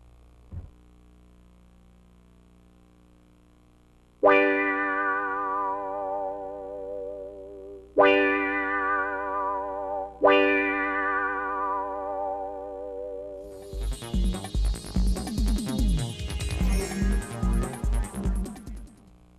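Three separate piano-preset notes from a Roland XP-10 synthesizer, each ringing out with a wavering vibrato and slow decay, followed by a denser, noisier electronic passage.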